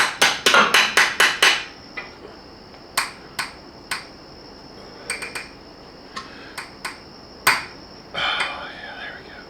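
A hammer strikes metal while replacing the VGT actuator on a 2019 Ram truck, in a quick run of ringing blows, then scattered single hits with pauses, close and sharp, each with a brief metallic ring.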